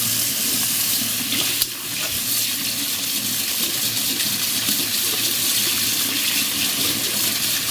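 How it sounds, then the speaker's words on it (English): Potatoes are washed under a running kitchen tap, a steady close splashing gush of water with a brief knock of a potato against the sink. "here we have the potatoes, which we are going to wash"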